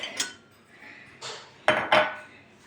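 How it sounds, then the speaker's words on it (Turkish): A few clattering knocks of pots and dishes being handled, with sharper clinks near the end, close by and without talk. "tencereler, tabaklar"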